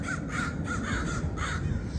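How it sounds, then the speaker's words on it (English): Several crows caw in a quick repeated series of harsh calls, close and fairly loud, with no speech. "So all these crows do not like the Blue Angels."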